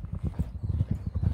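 Horse hooves clip-clop in a steady, fairly quick rhythm of close, low thuds, with no talking over them.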